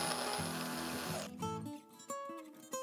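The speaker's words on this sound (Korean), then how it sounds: "다지기에 당근을 넣어주고 잘게 다져줍니다" A food chopper whirs loudly as it minces carrots, a dense motor drone that cuts off abruptly, followed by a few scattered clicks and knocks.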